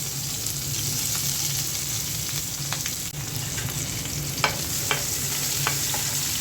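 Onion fries lightly in a pan with a loud, continuous crackling sizzle, punctuated by a few sharper pops and scraping stirs near the end, with no voices.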